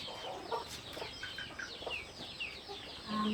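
Chickens clucking in a rural yard, soft repeated clucks and short calls at a moderate distance over low ambient noise, with a brief thump or two.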